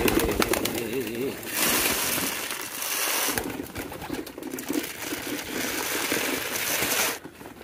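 Pigeons kept for sale coo in a loft, soft repeated throaty calls heard up close amid flapping, shuffling and background noise.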